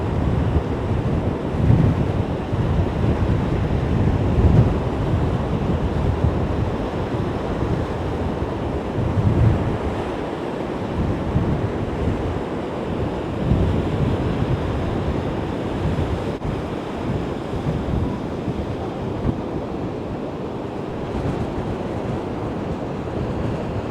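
Heavy sea surf and gusting wind at Antarvedi main beach during Cyclone Montha, a steady loud roar of breaking waves and wind buffeting the microphone throughout, with no voices.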